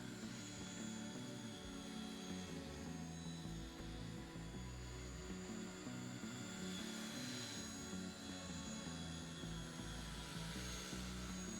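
A steady high-pitched rotor and motor whine hums continuously, a small radio-controlled model helicopter flying at moderate distance, even and unbroken.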